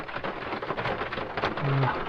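Light rain drums on the metal roof of a camper van parked at Savoy Mountain State Forest, a dense, steady hiss of close patter that swells slightly toward the end of the short stretch.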